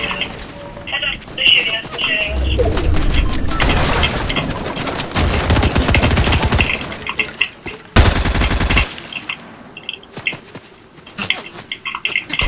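Rapid bursts of automatic gunfire in a Fortnite Reload duos match, with dense volleys around the middle of the stretch and scattered single shots after, under people talking throughout.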